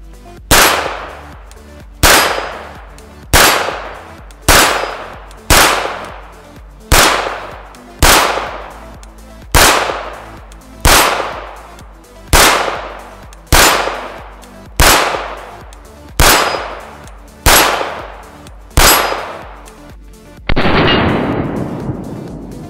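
Rifle rounds of two loads, SS-197 then SS-198, strike 3/8-inch AR500 steel gongs at a shooting range, about a dozen sharp, loud shot-and-clang impacts at a steady spaced rhythm, each ringing briefly, ending in a longer noisy burst.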